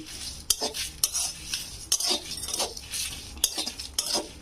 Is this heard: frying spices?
yes